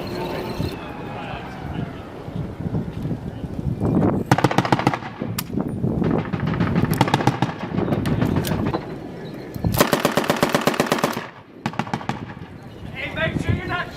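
US Marines in combat in Afghanistan fire machine guns and rifles at a compound roughly 400 meters away, with bursts of rapid automatic fire and single shots, loud and close, and voices speaking between bursts.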